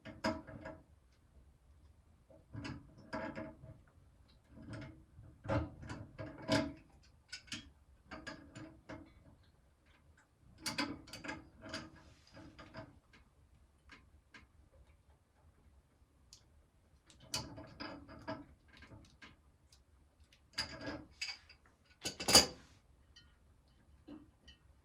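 Pliers tightening a plastic bidet fitting make sparse clicking and creaking bursts separated by quiet pauses, close and soft, with one sharper snap near the end.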